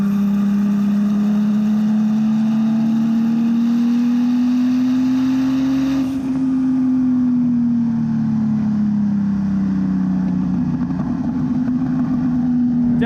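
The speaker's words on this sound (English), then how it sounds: "that's a turbocharged 911" Turbocharged 1982 Porsche 911 with 420 horsepower accelerating hard on a road, a loud, steady engine drone rising in pitch through a gear, dipping briefly at a shift, then climbing again, heard from inside the car.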